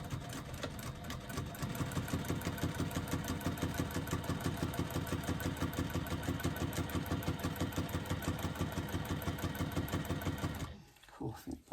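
A sewing machine stitches a seam at a 3/8 inch allowance, a close, steady rhythmic chattering hum that runs continuously for about ten seconds before stopping abruptly.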